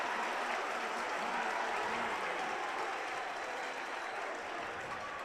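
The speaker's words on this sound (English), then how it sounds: "There is a sudden low roar in the crowd right now" A high school varsity basketball crowd, St. Ignatius against St. Edward, roars and cheers steadily throughout, with a dense wash of applause and voices that stays loud and constant.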